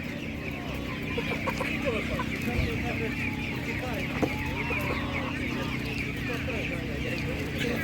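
Chickens cluck and chatter continuously at moderate volume at an outdoor Ukrainian poultry market, with a person talking over the flock throughout.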